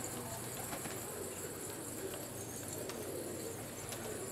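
White bar pigeons cooing softly in a loft, a low continuous murmur of coos under a steady, noisy background, fairly distant.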